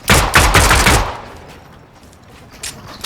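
Pistol gunfire in Fortnite: three or four loud, sharp shots in quick succession, then a quiet stretch with a couple of faint later pops.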